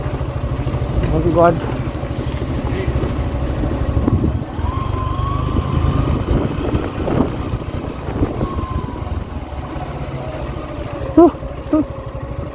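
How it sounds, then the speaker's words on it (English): A vehicle engine rumbles on a steep offroad mountain track, a constant low drone mixed with strong wind noise on the microphone, while a voice speaks briefly over it. "So there is a vehicle coming on."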